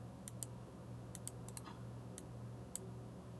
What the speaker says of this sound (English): Me right-clicking on it.